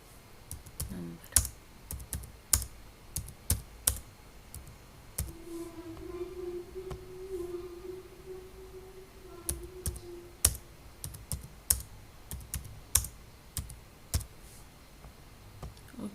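Numbers being typed on a computer keyboard, heard as irregular bursts of close, crisp key clicks spread across the whole stretch, with a faint steady tone humming in the middle and no talking.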